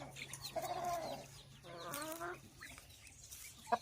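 A farm rooster clucks and calls in a few short, throaty bursts, moderately close, with quiet barnyard ambience around it.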